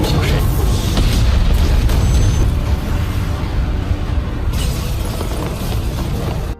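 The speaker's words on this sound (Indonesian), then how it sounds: "Ledakan tersebut bahkan sampai di kapal Dylan dan Long Jiu." A huge explosion in an animated fantasy story, bigger than a supernova and reaching a ship: a loud, continuous roaring boom with heavy low rumble and debris noise that holds steady for several seconds before cutting off.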